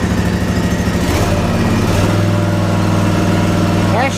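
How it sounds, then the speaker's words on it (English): The 23 HP Kawasaki engine of an Ariens IKON X 52-inch zero-turn riding mower idles close by with a steady, loud mid-pitched drone. Its tone shifts slightly early on, then holds even. "You gotta love a Kawasaki, that fires right up."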